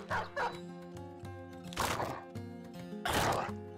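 A dog in the Battle Brothers video game gives a few short barks and yips, spaced out over a steady musical background.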